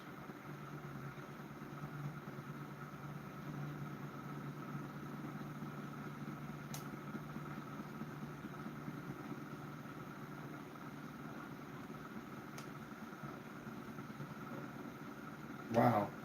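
A small homemade pulse motor with a magnet rotor spins at 9 volts, giving a steady, faint, low electrical hum that runs evenly throughout, with a brief knock near the end.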